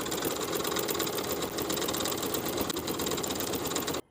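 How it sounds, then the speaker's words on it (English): A sewing machine fitted with a spiral hem foot runs steadily while stitching a quarter-inch rolled hem along a garment edge, a continuous close mechanical whir that stops abruptly at the end. "I'm going to use my spiral hem foot to create that same 1/4 inch rolled hem all along the bottom edge."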